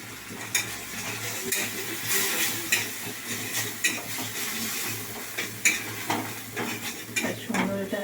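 Tomato paste sizzling in a hot pan while a spoon stirs and scrapes it, with steady frying crackle and repeated clinks of metal against the pan, close and fairly loud throughout, no talk.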